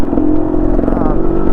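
An off-road motorcycle or quad ridden along a 50-inch tractor-trail quad route, its engine giving a close, steady buzzing drone with mechanical clatter throughout.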